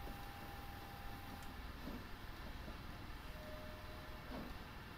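An oil-fired GER P43 steam locomotive runs in a UK train simulator game, giving a steady, low, faint rolling rumble with a soft, even wash of noise throughout.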